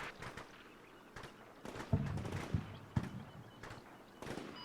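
Distant artillery spotting rounds firing in a military video game, a few faint far-off thuds and sharp reports spaced irregularly over a quiet background.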